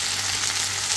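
Mussels sizzle and fry in a pan of nearly cooked-off oil, a steady close crackling hiss filling the whole second with no voices.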